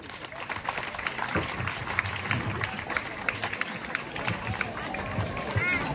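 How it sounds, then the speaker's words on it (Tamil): Audience applause at a school annual day ceremony, a continuous patter of many hands clapping amid crowd murmur, moderately loud and steady throughout. "உங்களுடைய பலத்த கரகோஷத்தோடு"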